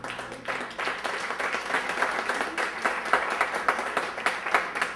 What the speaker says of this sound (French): On applaudit chaleureusement Lucien Dorline.